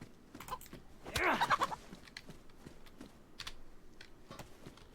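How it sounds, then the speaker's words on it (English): A chicken in the survival video game DayZ clucks in a burst of close, rising calls near the start, amid scattered clicks that sound like keyboard typing. "The ironic thing is the chicken has calmed down."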